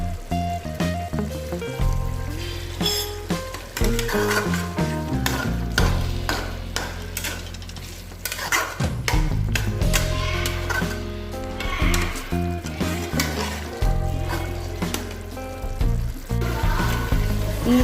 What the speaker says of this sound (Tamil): இந்த தண்ணியெல்லாம் சுண்டி நல்லா ட்ரை ஆகிற வரைக்கும் வறுத்துக்கோங்க.